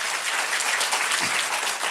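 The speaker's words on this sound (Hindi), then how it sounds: "एक अच्छी ताली प्रभु के लिए अभी भी जोर से" A church congregation applauds together, a dense steady round of clapping from many hands that continues evenly throughout, heard from within the crowd.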